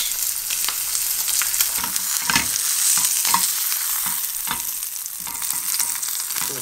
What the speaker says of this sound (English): So this is gonna be in the grill pan for about 45 minutes